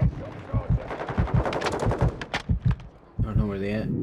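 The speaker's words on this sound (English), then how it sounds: "Who's shooting?" Rapid bursts of automatic gunfire crackle loudly in a Modern Warfare 2 online match, several close volleys in quick succession, with a voice talking over the shooting.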